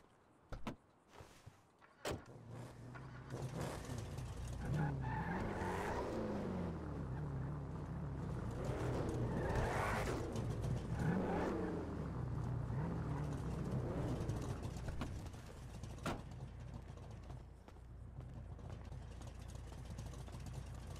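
A vehicle in a roleplay video game is pulled out, with a steady engine hum and mechanical whirring rising and falling over about twenty seconds, preceded by a few sharp clicks and clunks.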